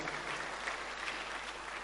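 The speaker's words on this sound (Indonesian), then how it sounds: "Tepuk tangannya paling meriah buat Tuhan." Church congregation claps during a sermon, a steady wash of many hands, fairly faint and distant, continuous without pause over a low background hum.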